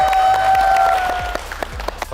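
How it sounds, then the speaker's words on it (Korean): Studio audience and cast on a Netflix quiz game show clap in a short burst of scattered claps over a sustained musical tone and low rumble, with no talking. "박수 한번 주고 박수 한번 주고."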